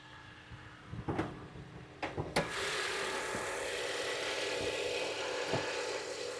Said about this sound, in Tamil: வண்டியோட இன்ஜின் நம்ம ஸ்டார்ட் பண்ணிடலாம்.